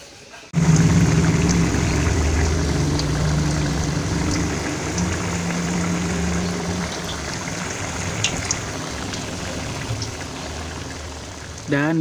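Bakwan vegetable fritters frying in hot oil make a steady, loud sizzle with a dense crackling hiss that runs continuously after a quiet start, close to the pan.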